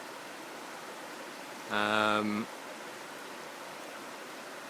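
Big Wilson Creek on the Appalachian Trail flows with a steady, even hiss of running water, while a voice briefly speaks a single word partway through.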